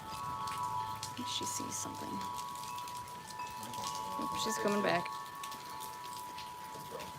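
Rain falling steadily outside on a rainy morning, a soft continuous patter in the background while people talk nearby.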